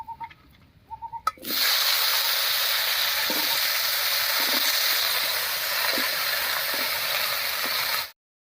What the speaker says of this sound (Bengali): এবার এই তেলের মধ্যে বেগুনটা ভেজে নেব